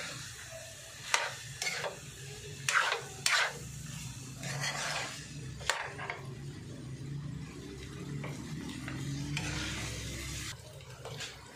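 A spatula stirs bitter gourd with egg and meat in a hot pan, giving soft scraping and rubbing strokes over a low sizzle, broken by several sharper clacks of the utensil against the pan.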